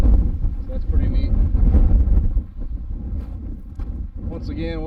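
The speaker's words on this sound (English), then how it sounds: "Sorry again for the wind" Outdoor wind buffets a microphone along an abandoned canyon rail line, a loud low rumble of uneven gusts that eases briefly midway, with a voice in the background.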